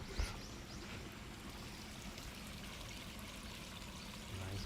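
Water trickles and flows along a channel during an early morning walk in Tokyo, Japan, a soft, steady burble at a distance with faint background hum and no talk.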